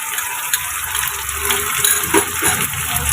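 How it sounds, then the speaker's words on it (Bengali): Steady close-up sizzling and bubbling as two small ground tomatoes go into hot oil with onion paste in a pan for Bengali chicken kasa, hissing continuously without any voices. "এখানে আমি 2টো ছোট সাইজের টমেটো বেটে রেখেছিলাম, যেটা আমি দিয়ে দিচ্ছি এর মধ্যে।"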